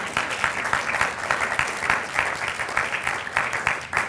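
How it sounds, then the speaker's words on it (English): Rally crowd in Atlanta at a Jill Stein 2016 event breaking into steady applause, dense clapping sustained throughout with a few faint voices mixed in. "You should applaud on that."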